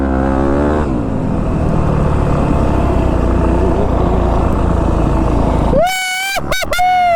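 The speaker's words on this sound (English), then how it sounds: "First ride on my new YZ250F." A Yamaha YZ250F dirt bike ridden on a motocross track, its engine buzzing hard and steady for several seconds before cutting off, followed by a couple of sharp revving blips up close; no talk over it.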